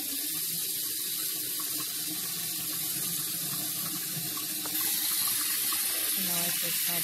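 A bathroom sink faucet runs steadily, a close continuous splash and gush of water into the basin that grows slightly louder partway through.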